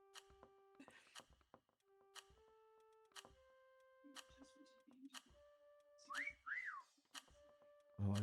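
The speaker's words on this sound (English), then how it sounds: "Oh, I just heard someone whistle real loud." Sharp whistles from players in the hide-and-seek video game Meccha Chameleon, short rising-and-falling tones standing out over soft game ticks and beeps, with people talking intermittently.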